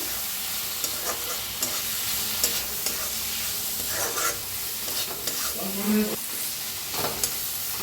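Spice masala with coriander powder and red chili powder roasting in a pan, a continuous close sizzle broken by repeated scraping strokes of a spoon at an uneven rhythm, with no voices.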